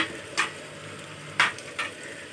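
Mutton fries in a pan with Kashmiri chili and salt under a steady close sizzle, with three brief scraping stirs standing out.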